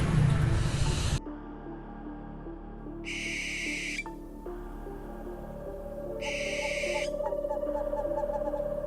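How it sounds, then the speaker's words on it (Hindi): A pair of white owls calling at night, with a loud rough screech at the start followed by quieter repeated hissing calls over a steady background hum. "वो सफेद उल्लुओं का जोड़ा हमारे कैमरे में कैद हो ही गया।"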